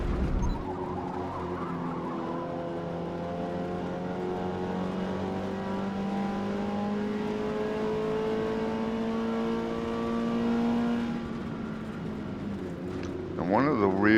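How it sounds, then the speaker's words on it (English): Mazda MX-5 in the Forza Motorsport racing game at Hakone, its engine holding a steady sustained note as the tires slide, with the pitch shifting abruptly near the end. "And there, tires are sliding all over the place."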